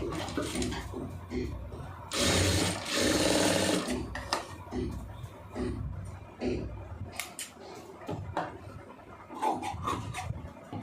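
A sewing machine stitching a garment armhole joint, giving close bursts of fast mechanical whirring and clatter separated by pauses filled with handling noises and soft rustles.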